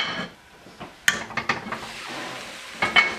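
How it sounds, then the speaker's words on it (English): Butter melting in a covered pot with chicken, onion, garlic and carrots, a soft sizzle broken by several close clanks of the lid and pot. "I'm gonna go ahead and throw our 5 tablespoons of butter in there. I'm gonna let that melt."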